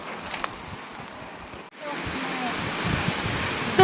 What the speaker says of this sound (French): Ah, un coup de vent là qui se lève.